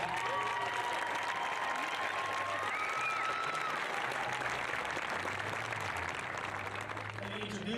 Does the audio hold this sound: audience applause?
yes